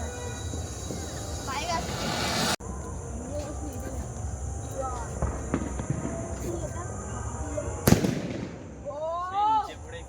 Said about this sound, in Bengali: বাজি ফাটছে